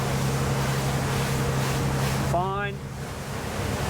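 A 2021 Jeanneau Cap Camarat 9.0 powerboat running through waves, with a steady engine drone under rushing water and wind, and a brief spoken word near the end.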